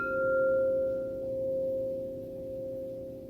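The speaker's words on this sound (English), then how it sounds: "By the way, this is a solfeggio bowl." A crystal solfeggio singing bowl rings with a pure, sustained tone that swells and ebbs in slow waves, heard alone and clearly.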